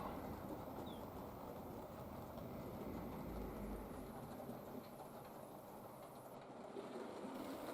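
A model railway train, the Up West Riding hauled by a kit-built Copley Hill A1 locomotive, runs steadily across a layout, giving a continuous low rumble with faint wheel rattle and no talk.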